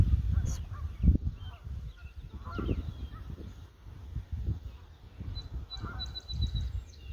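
Honking waterfowl calls by the shore of Lake Ontario, several rough nasal honks scattered across the moment, with muffled wind and outdoor background rumble.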